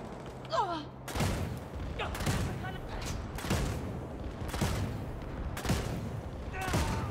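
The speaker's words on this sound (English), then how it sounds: "Shooting." Loud video game gunfire cracks out in a series of sharp, evenly spaced shots about a second apart, each with a short echoing tail over a steady background hum.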